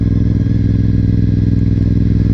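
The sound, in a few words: Honda RC51 motorcycle riding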